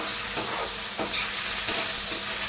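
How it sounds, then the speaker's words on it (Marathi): Soaked basmati rice is stirred while sautéing in ghee, giving a steady close sizzle broken by soft scraping strokes of the spoon. "आणि हे बासमती तांदूळ भिजत ठेवले होते ना ठीक आहे ते पण घालून घेऊया आणि चांगले ते परतून घेऊया हलक्या हाताने परतून घ्यायचे आहे"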